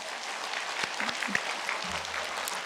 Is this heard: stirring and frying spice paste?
no